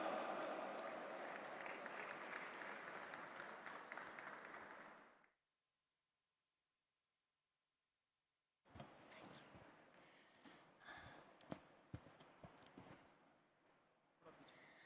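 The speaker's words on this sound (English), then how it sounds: "Please put your hands together and welcome with a round of applause, Madam Marzia Dalal." A crowd at an interfaith summit applauds steadily for several seconds, then stops into silence; after a pause, scattered voices and light clapping noises follow.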